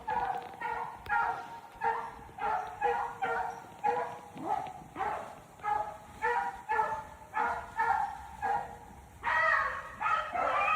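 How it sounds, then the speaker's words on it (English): A young hunting puppy bays over and over in a steady rhythm while chasing a rabbit through the brush. The yelps are close and loud, come in rapid succession and go on for the whole stretch. "That's a puppy."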